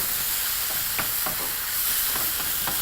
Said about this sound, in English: Now using your wooden spoon, proceed once more to mix everything through together.